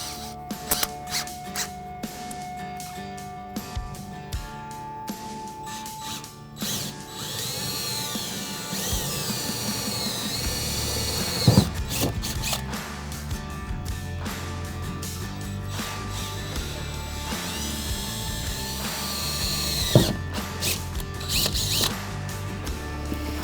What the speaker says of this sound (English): take the 11/64 bit and we're going to punch an actual hole all the way through